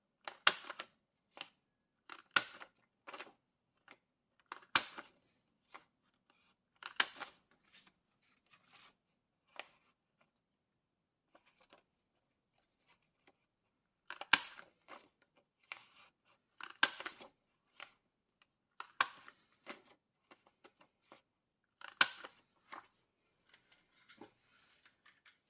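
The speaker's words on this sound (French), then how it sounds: "je vais perforer les 4 d'un coup, comme ça, ça sera fait." A hand paper punch clacks through four stacked sheets at once in a quiet room, giving a series of sharp, close clicks and crunches that come in uneven bursts with short pauses between.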